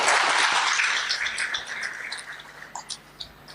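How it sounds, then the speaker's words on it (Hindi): Audience at a spiritual morning gathering clapping for themselves, a loud wash of applause that thins into scattered individual claps over a few seconds. "तो आप अपने लिए ताली बजाओ"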